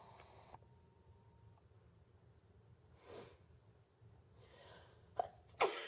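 A single sneeze from a young child, fairly close in a quiet room, with a brief snort-like burst just before it.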